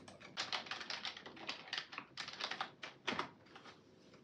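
Fingers type on a computer keyboard, a quick, uneven run of close clicking keystrokes with brief pauses between bursts.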